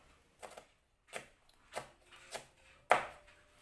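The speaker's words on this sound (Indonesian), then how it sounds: "ini ada 1 biji cabai merah besar diiris serong" A knife cuts a large red chili on the diagonal on a board, making five distinct taps spaced about half a second apart. The last tap lands hardest, and the cutting is close and otherwise quiet.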